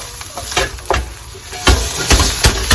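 Bacon fries in canola oil in a non-stick pan, a loud, constant hiss broken by sharp crackling pops and spits, close up with no talking.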